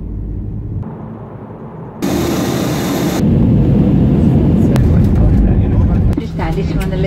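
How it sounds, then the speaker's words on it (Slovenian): A Lufthansa airliner lands at Frankfurt airport, heard as a loud, steady cabin roar that swells suddenly partway through and stays heavy and rumbling to the end. "Pristali smo na letališču v Frankfurtu."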